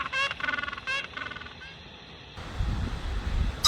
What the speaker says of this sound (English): This is penguin.